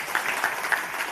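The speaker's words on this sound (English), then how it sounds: "a big round of applause to all our channel partners who are sitting there for making that happen" Brief applause from an audience of channel partners at a Nokia phone launch event, soft and somewhat distant, with a few sharper claps standing out.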